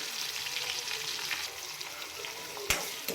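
Sliced onion and green chillies sizzle quietly in hot oil with cumin and mustard seeds as a red lentil tomato curry begins, a soft, steady crackle broken by one sharp utensil knock near the end.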